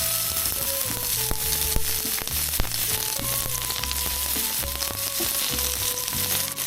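Asparagus frying in a pan inside a camper van, a loud, steady, crackling sizzle close by with small pops throughout and no talking.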